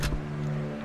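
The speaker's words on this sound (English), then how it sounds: "Then my jeep can go over there and dangle itself as a piece of bait" A jeep in the strategy game Codex of Victory drives with a steady mid-pitched engine hum and a brief louder rev at the start, holding close and constant for under a second with no talk.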